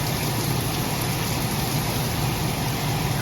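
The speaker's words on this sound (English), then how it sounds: "finally it's raining." Rain falls in a steady, even hiss with no pauses, a continuous wash of noise outdoors and no voices over it.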